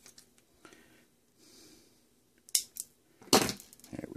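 Wire for a breadboard gets snipped to length with cutters, giving a few close, crisp clicks and crunches, with the sharpest snip near the end over quiet handling noise.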